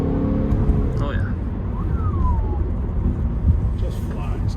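1990 Honda Accord LX Coupe cruising on a road, a steady low engine and tyre drone heard from inside the cabin, with faint whistles and rattles above it.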